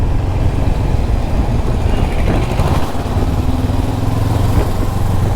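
A Honda CB500X parallel-twin motorcycle engine pulls steadily in fourth gear from about 35 km/h, its loud, close drone rising in pitch under a constant rush of wind and road noise.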